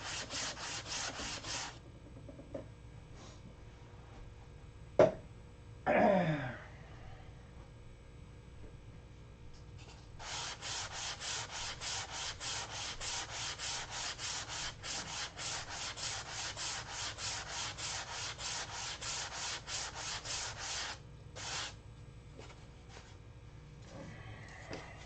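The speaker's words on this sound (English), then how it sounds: "these were sanded with 180, so we're going to go over them with 320." Wood canopy parts for a Mega Tucker model plane are sanded by hand with 320 grit sandpaper, giving a soft, steady, close rubbing rasp in a short burst, a sharp knock and a scrape, then a long continuous stretch of strokes.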